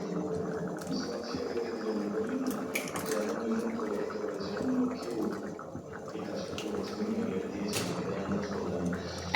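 Egg chicken tarka curry boiling in a covered pot, a soft continuous bubbling and gurgling with a few sharper clinks, faint and close throughout.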